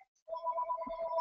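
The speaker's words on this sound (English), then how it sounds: "oh my gosh, wait, the phone is ringing" A phone rings with a clean electronic ringtone, a sustained two-tone chime swelling steadily, fairly close and alone after a brief quiet start.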